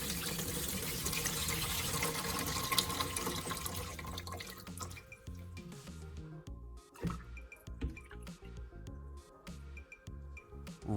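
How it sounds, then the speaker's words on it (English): Liquid poured out of an old battery into a container pours and trickles out in a steady stream, then breaks into scattered drips and small splashes as the flow tapers off. "pour the liquid out into a safe container"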